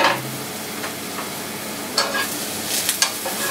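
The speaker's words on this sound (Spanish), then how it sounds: "Seguimos salteando un poquito." Trout and green apple sticks sautéed in a pan with a little olive oil, a soft steady sizzle broken by a few sharp scraping and tossing sounds, no speech.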